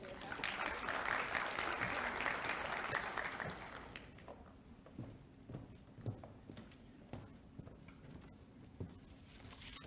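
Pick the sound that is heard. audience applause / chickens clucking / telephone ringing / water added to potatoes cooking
audience applause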